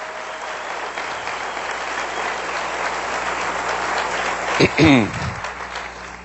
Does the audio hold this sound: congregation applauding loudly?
yes